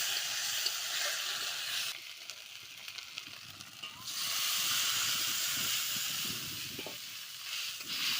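Water poured into a hot pan of rohu fish curry after the spices are fried, giving a loud steady hiss and sizzle that briefly dips, then surges back and keeps bubbling close up, with no talking.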